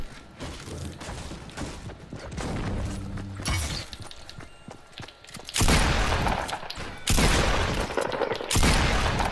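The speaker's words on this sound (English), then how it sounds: "Here comes a rocket." Incoming rocket detonating in Fortnite gameplay, heard as loud crashing bursts with shattering debris after a stretch of busy gunfire and clatter, the big blast hitting near the five-and-a-half-second mark and a second heavy burst following.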